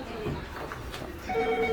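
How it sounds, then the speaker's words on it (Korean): A telephone rings inside a busy dumpling shop at Cheongju's Seomun Market. The short electronic ring tones are moderately loud and sound over a murmur of shop bustle. "전화가 막 불나게 오네"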